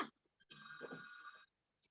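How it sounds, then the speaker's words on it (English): A hotel room telephone rings in one long electronic burst with steady bright tones, fairly close, followed by a brief faint chirp; no talking. "my hotel phone is ringing."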